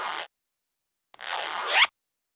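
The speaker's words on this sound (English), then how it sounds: "Z, z, zipper." A clothing zipper is pulled in two strokes: a short rasping zip, a pause of about a second, then a longer zip that rises in pitch and ends sharply, close and clear with no voices.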